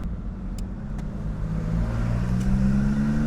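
A Porsche Boxster 986 roadster's engine hums steadily and builds gradually in pitch and loudness as the car accelerates, heard from close by on an open road.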